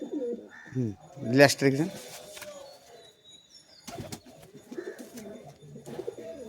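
Domestic high-flying pigeons coo in rolling, throaty bursts nearby, one strong call cluster early, then softer coos later, while someone talks over and between them.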